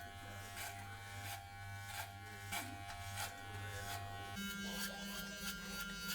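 Electric hair clippers cutting a fade give off a close, steady buzzing hum, and the pitch shifts partway through as the blade moves over the hair.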